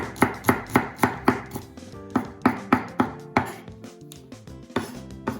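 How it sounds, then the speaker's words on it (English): A large chef knife chops a trimmed vegetable on a board in quick, regular strokes, a crisp series of close, sharp knocks with a short pause midway before the rhythm resumes. "we simply use our larger chef knife to slice through."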